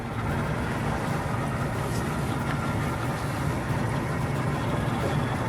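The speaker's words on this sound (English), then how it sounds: "I'm gonna motor into the beach really slowly now" A boat motoring slowly toward a beach, its engine a steady low drone with wind and water noise, continuous and even throughout with no talking.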